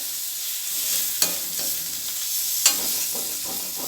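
Masala stirred into egg rice frying in a pan: a steady close sizzle with scraping stir strokes and two sharp utensil taps against the pan, no voices.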